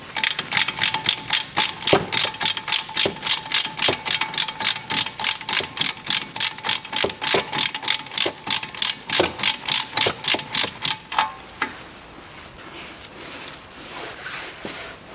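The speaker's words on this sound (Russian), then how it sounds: "Затягиваю наконечник" A ratchet wrench tightens a tie rod end on a 2009 Chevrolet Cruze, giving a fast, even run of close, sharp clicks that stops abruptly, leaving quiet workshop ambience.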